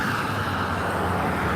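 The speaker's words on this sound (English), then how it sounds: "Look at the traffic pass." Continuous roadway noise as vehicles pass nearby, a steady broad rush with low engine rumble throughout.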